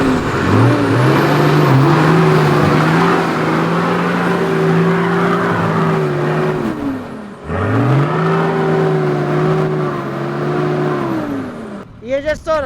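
A four-wheel-drive vehicle stuck and spinning in place as its engine is revved hard in third gear, dipping and rising again in two long sustained surges, loud and close, with a voice briefly at the end.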